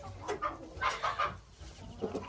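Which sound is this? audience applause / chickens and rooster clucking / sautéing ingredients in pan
chickens and rooster clucking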